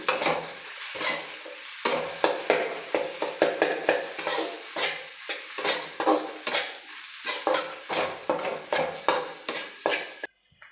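Egg frying and being stirred in a pan, a steady soft sizzle broken by rapid, rhythmic scraping strokes of a spatula, close and continuous with no voices.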